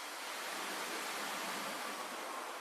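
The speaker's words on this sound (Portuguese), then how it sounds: "No seu centro, corre a Cuisance que borbulha e serpenteia entre as ruelas." The Cuisance river bubbling through the narrow streets of Arbois, a steady, dense rush of flowing water that holds evenly throughout with no voices.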